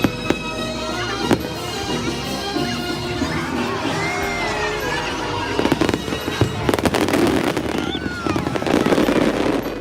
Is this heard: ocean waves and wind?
no